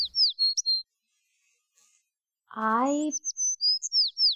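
A pet bird chirps in quick high bursts, near and clear, then someone briefly speaks before the bird resumes a run of sharp repeated tweets.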